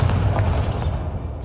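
Bombarda explosion spell cast in the video game Hogwarts Legacy, a sustained, loud low-end boom and rumble that fills the moment without any voice.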